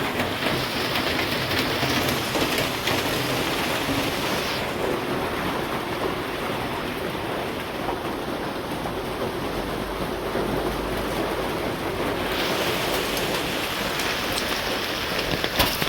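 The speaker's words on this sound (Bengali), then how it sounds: "ভয়ঙ্কর বৃষ্টি নেমে গেছে" Heavy rain pours down on a Bangladeshi village in a dense, unbroken hiss that stays loud and even from start to finish, with no voices.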